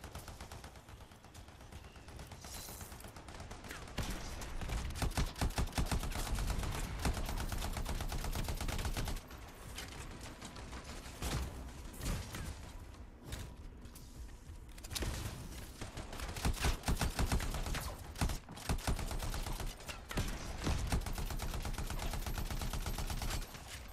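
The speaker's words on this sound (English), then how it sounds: "Who is shooting? Oh, it's another turret." Turret gunfire in the Anthem video game, sustained rapid bursts of automatic shots that swell and fade over dense battle noise with no talk.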